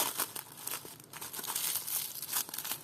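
Plastic bag crinkles and rustles continuously in small bursts while vintage jewellery is unpacked, close by and fairly quiet, with no voices.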